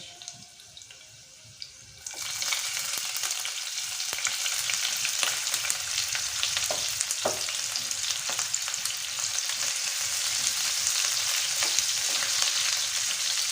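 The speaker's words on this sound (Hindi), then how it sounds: "अब डालेंगे हम शिमला मिर्च" Capsicum dropped into a hot pan for veg Nutrela chowmein sets off a sudden loud, continuous hissing sizzle after a quiet start, sustained close up with occasional stirring scrapes.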